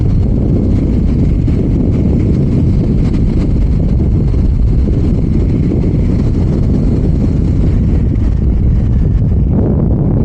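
Suzuki GSX-R motorcycle cruising smoothly at 120 km/h on new tires, heard as a loud continuous roar of wind buffeting and engine drone from the rider's position, unbroken throughout.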